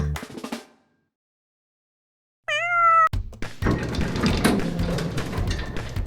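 A short synthetic cat meow rises and wavers, followed by a thump and busy background noise; a brief sound comes before a stretch of silence.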